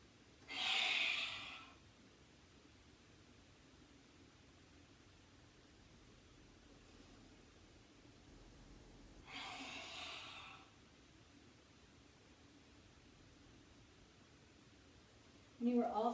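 Forceful lion's breath exhales during a gentle yoga session, two loud breathy whooshes about eight seconds apart, each lasting a second or so, with quiet room tone between and a brief voice at the end.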